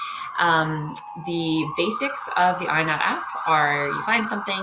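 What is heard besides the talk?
emergency vehicle sirens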